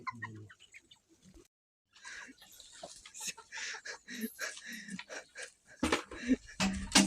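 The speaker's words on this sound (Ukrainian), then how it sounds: "О, о, о, о, півень." Chickens cluck and a rooster calls amid farmyard noise, with some rustling and a voice nearby; sounds come in irregular bursts, moderately close.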